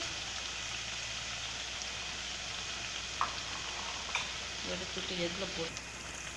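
Thattai, a crisp South Indian rice snack, frying in oil over a minimum flame, giving a steady soft sizzle throughout with a few small pops and faint stirring clinks.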